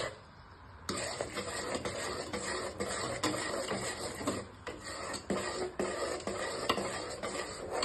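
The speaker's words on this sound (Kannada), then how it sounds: "ಈ ಹಸಿ ಕಡಲೆ ಹಿಟ್ಟಿಂದು ಹಸಿ ವಾಸನೆ ಹೋಗೋವರೆಗೂ ಸ್ವಲ್ಪ ಮಿಕ್ಸ್ ಮಾಡ್ಕೋಬೇಕು" Raw gram flour (besan) stirred in a thick-bottomed pan over a low flame for Mysore pak, a steady rasping scrape of the spoon against the metal, repeating in close strokes with brief pauses.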